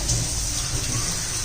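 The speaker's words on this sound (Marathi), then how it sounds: "थोडंसं आपण पाणी घालून घेऊया" Water pours in a steady, continuous rush into jaggery in a pan to make syrup, close and unbroken with no voices.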